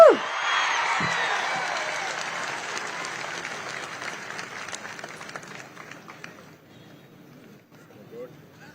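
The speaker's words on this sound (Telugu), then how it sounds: "గట్టిగా చప్పట్లు కూడా అభినందించండి" A crowd at a public congratulation event for a newly selected police constable breaks into loud, dense applause that starts sharply, holds for several seconds and then gradually thins out and fades.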